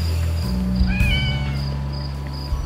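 A small cat or kitten meows outdoors near a beach hotel in Turkey, with one clear meow in the middle over a steady low background hum and a faint high tone.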